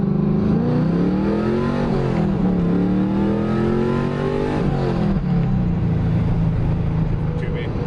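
A car engine revs up as it accelerates, its pitch climbing and dropping through shifts, loud and close from inside the vehicle.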